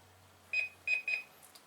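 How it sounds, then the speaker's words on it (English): A Faroro PF20 automatic pet feeder gives three short electronic beeps on reset, two close together after the first, fairly faint in a quiet room. "So you heard it beep"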